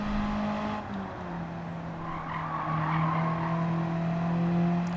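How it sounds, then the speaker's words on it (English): Engine of a little yellow Honda S800 convertible roadster in Gran Turismo 7, running steadily on the Nordschleife with a droning hum and faint tyre noise, continuous and close throughout. "It is the Honda S800, a little yellow convertible, taking to the Nordschleife."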